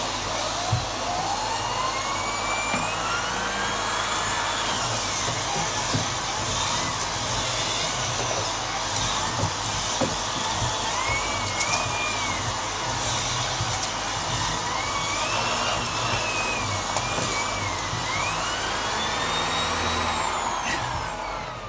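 Vacuum cleaner running with its turbo brush, sucking dog hair off a carpeted staircase: a steady, loud whine and roar that holds for the whole stretch, with small shifts in pitch as the brush moves and no talking.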